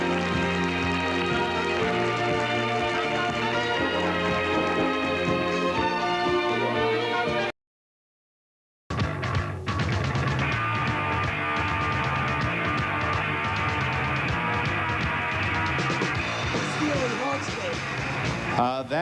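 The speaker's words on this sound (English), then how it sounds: "That's the sound of punk rock" Loud, dense punk rock music from a 1981 US television program, a driving full-band wall of sound that breaks off briefly and resumes.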